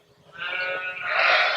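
A young lamb in a sheepfold gives a single drawn-out bleat that rises and strengthens toward the end, close and clear with no talk over it.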